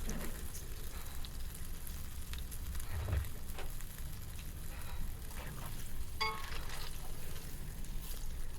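Pazhampori banana fritters deep-frying in a pan of oil, a steady, dense sizzle that runs unbroken throughout with a few faint clinks of stirring.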